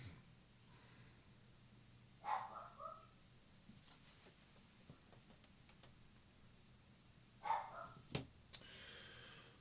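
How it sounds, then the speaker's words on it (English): Dogs bark faintly in the background, far off, in two short clusters of barks separated by several seconds of quiet room tone. "That would be my dogs back there barking"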